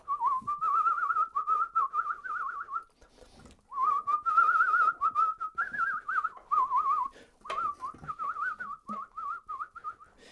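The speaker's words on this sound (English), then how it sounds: "It's difficult to maintain that warble whistle." One person whistles a sustained warbling tune, a bright wavering tone in three long phrases separated by brief pauses, close and clear with faint household clatter behind.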